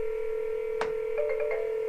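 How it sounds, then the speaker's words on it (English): An intercom system dials out to a cell phone: a steady dial tone sounds, then a short click, then a quick run of several touch-tone beeps, fairly close and clear with no talking. "it should call my cell phone that I had programmed earlier"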